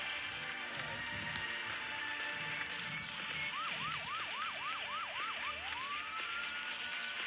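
A wailing ambulance siren in an Android emergency rescue game rises and falls in quick repeated sweeps over steady background noise and ambient game sounds, then settles into a longer tone.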